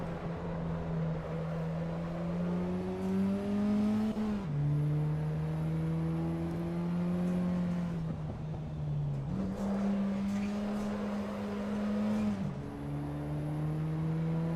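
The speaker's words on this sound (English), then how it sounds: "Nice little popping from the exhaust." Race car in the Assetto Corsa EVO sim at Laguna Seca, engine droning steadily through long gear pulls with shifts and brief exhaust crackles between them, loud and continuous with no talking.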